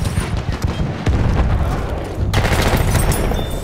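Gunfire in the Battlefield 1 video game, a loud, dense fusillade of shots and booms rolling continuously through the short stretch with heavy battle ambience.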